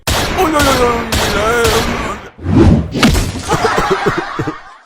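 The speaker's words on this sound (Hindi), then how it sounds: "मुझे तो पटाखे फोड़ने में मजा आ रहा है" Sharp firecracker bangs burst near and loud, first a few cracks mixed with a voice, then a rapid rattling string of small pops.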